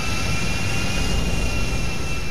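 Engines of a large passenger airplane in the video game GTA V give a loud, continuous jet roar with a faint high whine on top. The noise is steady and close with no voices.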